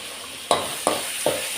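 Tomatoes with salt sautéed in a pan, stirred in three distinct strokes, each a scraping swish over a steady sizzle, close and clear with no talk.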